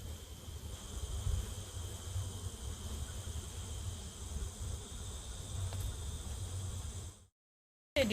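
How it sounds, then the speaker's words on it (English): Honey bees in a resource hive give a steady, dense buzzing drone with a constant high whine, fairly close and continuous until it cuts off abruptly near the end. "A decent amount of bees in the resource hive that I just grabbed."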